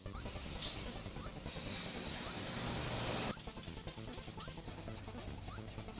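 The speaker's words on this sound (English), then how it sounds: "Then it's everyone's favorite step, sanding." Continuous loud hissing abrasion of sandpaper against a wooden bowl spinning on a lathe, with an abrupt shift partway through to a slightly different, pulsing scratchy texture.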